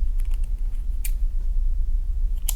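Scissors snip through crochet yarn in a couple of short, crisp cuts, one near the middle and one at the end, over a low background rumble with no talking.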